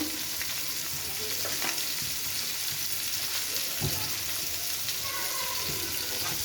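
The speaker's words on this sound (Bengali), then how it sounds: "দুটো শুকনো মরিচ ছেড়ে দিয়ে দিচ্ছি এখন দিয়ে দেব রসুন কুচি" Dried chillies and chopped garlic frying in hot oil, a dense continuous sizzle with occasional soft clinks, close and steady, no talking.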